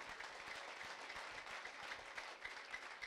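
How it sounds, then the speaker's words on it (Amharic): A church congregation claps for the Lord during a prophetic service, a dense, steady patter of many hands that runs throughout, faint and somewhat distant, with no talk over it. "አጨብጭቡ ለጌታ።"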